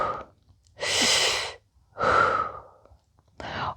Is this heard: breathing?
yes